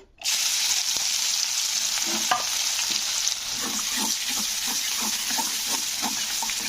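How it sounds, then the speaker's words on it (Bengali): Two medium onions fry in oil left over from frying bata fish, giving a steady loud sizzle with scattered stirring clinks and scrapes, no voices. "তো পেঁয়াজগুলোকে একটু মানে ব্রাউন কালার করে একটু ভেজে নেবো"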